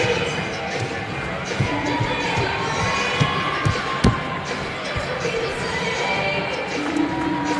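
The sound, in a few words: basketball crowd getting loud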